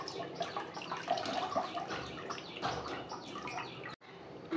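Arum leaves being washed by hand in water in a basket, with steady splashing and trickling close by, broken by a short pause near the end.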